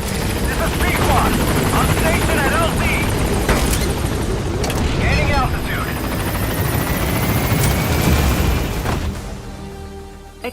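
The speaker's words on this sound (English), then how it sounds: "Board the chopper. Arriving shortly at LZ." Helicopter rotor chopping loudly and steadily in Metal Gear Solid V: The Phantom Pain as the extraction chopper arrives at the landing zone, layered with game radio chatter and distant gunfire-like booms, fading slightly near the end.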